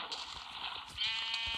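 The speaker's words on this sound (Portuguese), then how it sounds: "Tem uma ovelha olhando pra mim." A video game sheep bleats alone in two drawn-out, wavering calls, the second louder and more nasal, heard fairly close while a player gathers wood.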